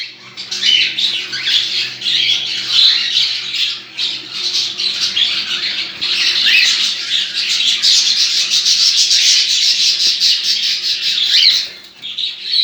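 Young female cockatiels in a breeding room squawk loudly and continuously, harsh overlapping calls close by with brief pauses.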